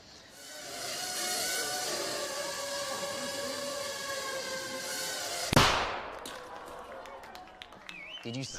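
An anti-personnel drone carrying a 3-gram shaped charge gives off a sustained whining buzz that ends in a single sharp, small bang, followed by faint scattered clicks.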